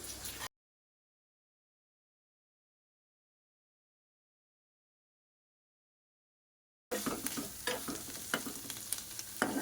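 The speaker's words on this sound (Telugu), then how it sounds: "కొత్తిమీర వేసి ఒక వన్ మినిట్ ఉంచాలండి" Chicken fry in the style of chicken 65 sizzles in a pan with fresh coriander stirred in, a short burst of frying cutting to silence, then steady close crackling and stirring for the last few seconds.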